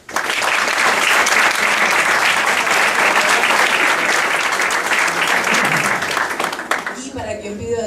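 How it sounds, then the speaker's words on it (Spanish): Loud, steady applause from an audience at a history teacher-training program ceremony, filling the whole stretch before fading slightly at the end as talking starts. "que también pido un aplauso."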